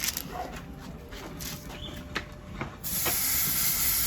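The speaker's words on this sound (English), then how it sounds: "Look at that sizzle." New York steaks sizzle on a hot BBQ grill, a crackling hiss with scattered pops that swells into a louder, steady sizzle near the end.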